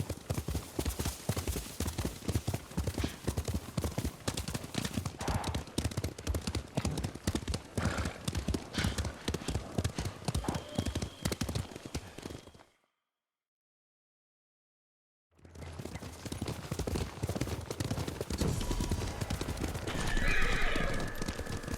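Horses gallop at speed in the Ghost of Tsushima game, with dense, steady hoofbeats and occasional neighs. The hoofbeats drop out for a few seconds of silence, then resume at full pace, loud and close.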